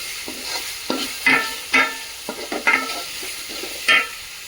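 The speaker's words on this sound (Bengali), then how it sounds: "আর কিছু দিয়ে দেবো স্লাইস করে কেটে রাখা কুচি কুচি করে আরও পেঁয়াজ।" Sliced onions frying on a high flame, with a bright sizzle broken by repeated scraping stirs in an irregular rhythm, close and clear with no voices.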